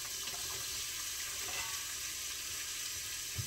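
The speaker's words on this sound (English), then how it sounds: "saute my onions, celery, and carrots" Onions, celery and carrots sautéing in a frying pan, giving a steady, dense sizzle that holds evenly throughout at close range, with no voices.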